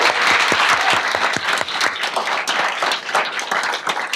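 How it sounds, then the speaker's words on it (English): A crowd at a Python meetup holiday event claps warmly for lightning-talk speakers, dense applause with distinct individual claps standing out, steady throughout. "Let's give a round of applause to the lightning talk speakers."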